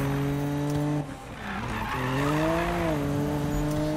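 Car tires skidding as a car drifts in the video game Need for Speed, a loud sustained tire squeal over engine tone, briefly dipping and then sliding on again with a wavering pitch.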